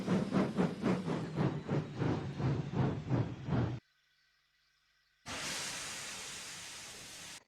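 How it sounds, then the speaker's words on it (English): A steam express engine chuffs in a steady rhythm of about a dozen close, loud beats, then cuts to near silence with a faint whine before a continuous loud steam hiss takes over. "I was pulling the train, as I was the main express engine before you came to Sodor."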